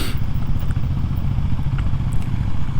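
Kawasaki KLX 300SM motorcycle engine running steadily through a smooth upshift, a loud, close, continuous low rumble with slight clatter and no speech.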